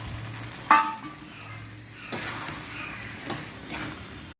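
Soft sizzling of sponge gourd with poppy seed paste frying in a pan, with a few scraping stirs and light clinks of a utensil against the pan; no voices.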